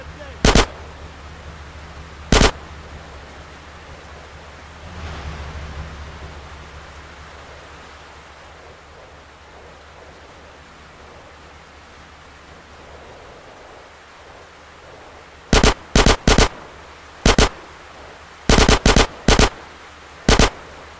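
Gunfire in the video game GTA San Andreas Definitive Edition: a few isolated shots early on, then a rapid cluster of sharp, loud bursts near the end over a low ambient hum.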